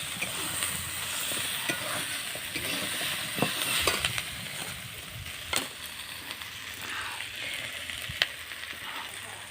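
Potatoes and onions fry in a pan, giving a continuous close sizzle with scraping stirs and occasional clinks of a utensil against the pan.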